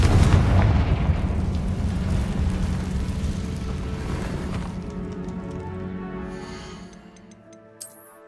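A loud Confringo spell blast in Hogwarts Legacy booms and rumbles through a cave, its heavy roar slowly decaying over several seconds before a small sharp pop near the end.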